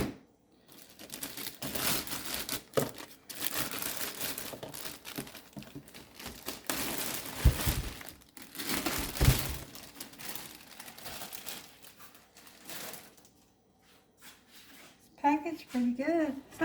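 Crinkling plastic and paper packaging while a Brother XR 3774 sewing machine is unboxed, irregular close rustles and crackles in bursts, with someone talking over parts of it.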